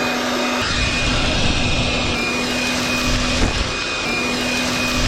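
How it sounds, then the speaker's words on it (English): A DEWALT cordless leaf blower runs in a backyard, a loud steady whining roar of air held at constant pitch throughout, close by and without talk. "Let's go check it out in the backyard blowing some leaves."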